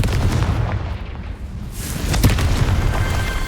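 An explosion spell from the video game Hogwarts Legacy sets off deep booming bursts over a rumbling game soundscape, loud and close with a sharp crack near the end and no talking.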